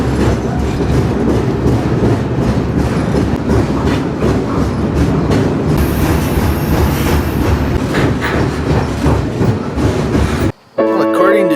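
Loud, steady rumble and rhythmic clatter of a freight train rolling along the tracks, heard from on board, cutting off abruptly near the end.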